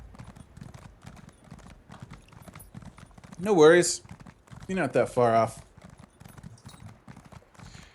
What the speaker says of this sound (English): my horse is taking forever to ride there